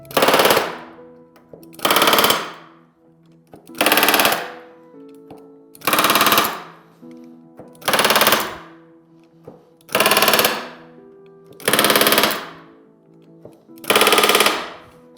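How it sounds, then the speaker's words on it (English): Pneumatic rivet gun setting rivets on an RV-10 aircraft aileron: eight loud, evenly spaced bursts of rapid hammering, each about a second long with short gaps between, close up and with no talking. "I'm going to go through and just hit every last rivet, the remaining rivets"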